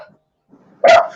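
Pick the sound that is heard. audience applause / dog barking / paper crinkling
dog barking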